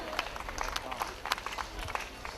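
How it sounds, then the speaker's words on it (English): Outdoor crowd at the Johnny Appleseed Festival applauding a group, a fairly distant spatter of scattered hand claps lasting a couple of seconds with some crowd noise. "Give them a big round of applause"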